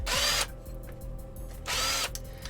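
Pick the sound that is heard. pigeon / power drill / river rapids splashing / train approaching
power drill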